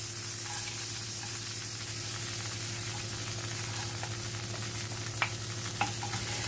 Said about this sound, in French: Je vais faire revenir l'oignon jusqu'à ce qu'il devienne translucide.